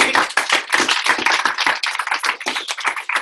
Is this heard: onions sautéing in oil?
no